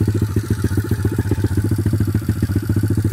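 A Kawasaki KLX pit bike engine idles steadily nearby, a loud, rapid, even putter with a mechanical clatter and no voices.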